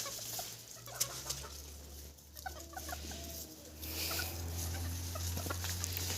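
Chickens and roosters cluck intermittently in a farmyard on a warm sunny day, moderately close, over a low steady hum of background noise.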